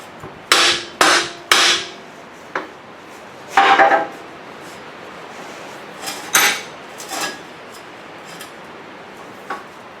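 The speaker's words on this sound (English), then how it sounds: "Now we're just going to hit the bottom of the U-joint, both sides." Hammer blows on the bottom of a U-joint on a home-made drive shaft, metal ringing strikes in quick close groups of three, then scattered single hits, loud and near in a quiet shop with no talking.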